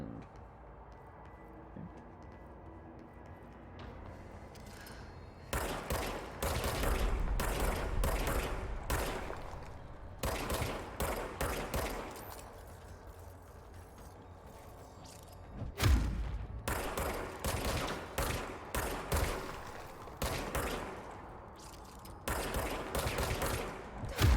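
Gunfire in the video game Control, with long rapid bursts of automatic shots, heavy booms and thuds, and short pauses between volleys, loud and dense over a quieter game background.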